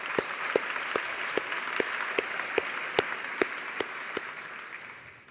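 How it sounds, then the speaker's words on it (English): A graduation ceremony audience at a fall commencement claps in a round of appreciation. The thick applause holds steady, with a few sharp nearby claps standing out at a regular beat, and thins slightly toward the end. "Please join me in a round of applause in appreciation of our MGA Foundation."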